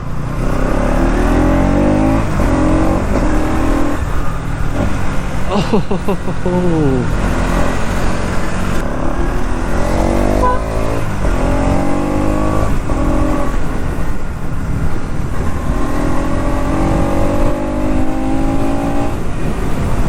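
A 2026 Bajaj Pulsar NS200 (E20) motorcycle accelerates through its gears, engine pitch climbing and dropping at each shift, loud and close, with someone talking over it throughout.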